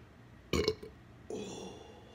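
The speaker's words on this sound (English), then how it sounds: "There's your big burps too." Two big, deep burps after drinking Coke Zero, the first loud and rumbling, the second longer and rougher after a short pause, close to the microphone.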